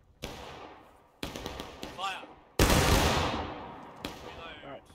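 Musket volleys in the Civil War game War of Rights, fought by a line unit at Sunken Lane, come as four loud, separate blasts, each a sharp crack trailing off into a rolling echo.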